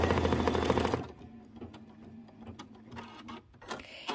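An embroidery machine stitching snap placement lines: a dense, rapid mechanical chatter for the first second, then quieter scattered clicks and taps as it slows and pauses, close and fairly quiet.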